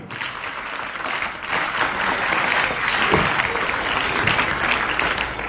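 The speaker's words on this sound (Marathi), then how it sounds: "त्यांच्यासाठी आपण एकदा जोरदार टाळ्या वाजवणार आहोत" Students at a school annual prize-distribution ceremony clap together in a steady, dense round of applause filling the hall, continuous and fairly loud from start to finish.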